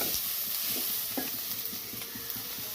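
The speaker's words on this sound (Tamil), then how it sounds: "பாருங்கள், நல்லா வதக்கிட்டு இருக்கோம். கிட்டத்தட்ட வெங்காயம் வதங்கிடுச்சு." Onions sautéing in a pan for cuttlefish thokku, a steady close sizzle with repeated scraping and stirring taps from a spoon, no voices.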